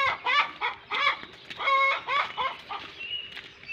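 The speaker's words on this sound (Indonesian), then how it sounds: "Ini ada seekor ayam. Di sini banyak ayam." Chickens on a farm in a village cluck in short, repeated bursts, close and fairly clear, one bird after another with brief pauses between calls.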